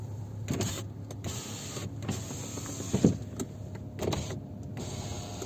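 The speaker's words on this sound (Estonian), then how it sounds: "Kõik aknad töötavad." Electric power windows on a Mazda 6 with automatic transmission run one after another, each motor whirring for a second or so with clunks as glass stops, recorded close inside the car.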